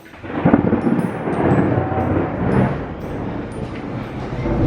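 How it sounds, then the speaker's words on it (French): Loud, sustained rolling thunder rumbles through a thunderstorm heard from inside a house, with rain underneath and a brief faint voice. "C'est pas grave, c'est de l'orage."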